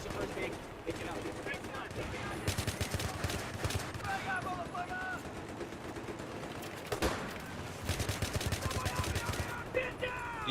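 Rapid bursts of N94 rifle gunfire from Battlefield 3 on PS3 crackle in clusters, with dense volleys around the middle and again near the end, over game ambience and some talk.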